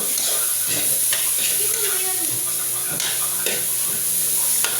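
Dried shrimp fry together with dry fried rice in a pan, a loud, even sizzle with the rasp of stirring and a few scraping knocks, alone and close.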